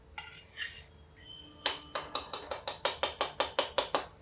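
A metal spoon adds ghee to a pan while making wheat flour laddoos, first a few soft scrapes, then a quick run of about a dozen bright, evenly spaced metallic clinks close by.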